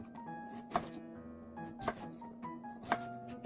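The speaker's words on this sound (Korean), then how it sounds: "나박나박하게 썰고 알배추 7장은 듬성듬성 썰고" A knife chops radish on a cutting board in three distinct, evenly spaced knocks, close and quiet, with a faint steady background hum between strikes.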